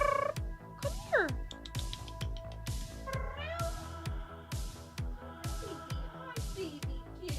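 A pet cat meows again and again in short, close, insistent calls, each followed by a strong low thump, with little else in the background.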